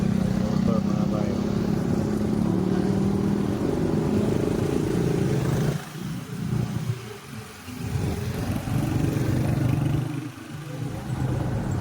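Motorcycle engine droning steadily during a ride, loud and close with a constant low hum, easing briefly around the middle before picking back up, with wind rumble and someone talking over it.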